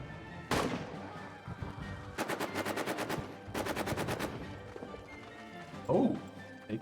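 Machine gun fire in the trench warfare video game All Quiet in the Trenches, with two clear rapid bursts of evenly spaced shots, a sharp blast before them and another impact near the end.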